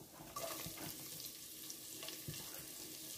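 Chopped onion fries quietly in a pan with a soft, steady sizzle and faint stirring scrapes, with no one talking.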